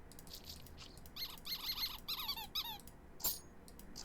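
Squeak sound effects from the video game Cookie Clicker play in quick succession as several short, high, chirpy squeals and rubbery squeaks, each separated by brief gaps.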